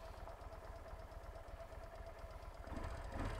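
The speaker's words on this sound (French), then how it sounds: "j'entends le moteur cliqueter comme les moteurs à l'ancienne" A Yamaha XVS 650 Dragstar motorcycle engine idles steadily with a fast, regular ticking beat, close by and alone, growing slightly louder near the end.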